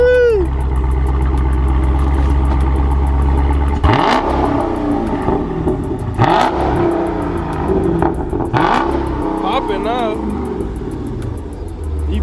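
A Dodge Scat Pack V8 with its mid muffler deleted revs repeatedly in bursts after a steady idle, loud and close, with voices talking over parts of it.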